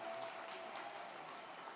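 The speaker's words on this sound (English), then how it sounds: "last round of applause here while they're getting their picture taken" An audience at a Florida governor's summit on disabilities claps in a brief, faint, steady burst of applause, a soft even patter across the room.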